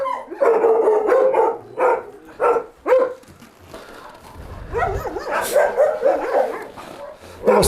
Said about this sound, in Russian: Это восточно-сибирская лайка